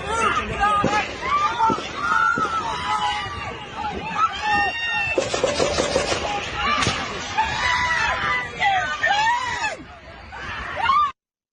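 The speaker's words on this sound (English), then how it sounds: "And a lot of screaming." A crowd screams and shouts at a rally during an assassination attempt on Trump, loud panicked voices rising and overlapping over babble and commotion, with sharp bursts, from a recorded video.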